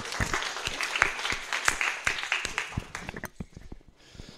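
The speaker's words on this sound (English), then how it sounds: "Let's applaud for Evocorp." A small group at an organizers' meeting claps, individual hand claps clearly distinct in an uneven rhythm, dying away toward the end.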